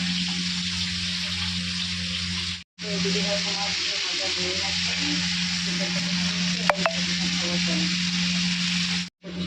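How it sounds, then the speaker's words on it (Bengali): Fish frying in oil in a pan gives a loud, steady close sizzle that runs on evenly, cut off by two brief silent gaps, with a low hum underneath. "ভাজা হচ্ছে"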